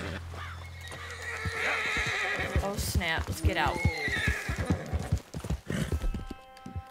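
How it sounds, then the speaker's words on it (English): Horse neighs and whinnies with clopping hooves in Red Dead Redemption 2, a spooked mount snorting and stamping up close under a man's occasional speech. "My horse is freaking out."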